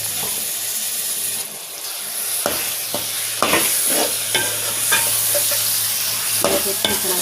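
Chopped turnips stirred and frying in a hot pan, loud sizzling hiss with repeated scraping and clattering of a spoon against the pan, close and without talk.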